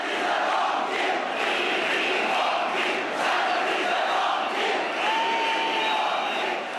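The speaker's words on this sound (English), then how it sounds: "In the Mumbai crowd, the Symonds chants came out again." A huge Mumbai cricket stadium crowd of tens of thousands roars and chants at Andrew Symonds, a steady, distant wall of massed voices with a whistle rising through it.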